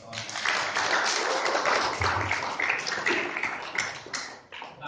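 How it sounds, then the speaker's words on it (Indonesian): Audience applause for journalists at a public lecture by the national police chief: dense, sustained clapping from a crowd that swells and holds steady for several seconds, with murmuring voices underneath. "Saya pikir saya minta berikan aplaus yang meriah buat wartawan."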